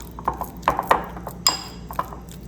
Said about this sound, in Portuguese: Eita, o pedreiro começou, gente.